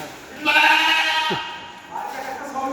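A goat bleats loudly nearby inside a private car, a wavering drawn-out cry followed by a softer second bleat, with people talking in the background.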